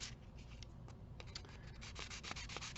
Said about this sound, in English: the first thing we have to do is sand all this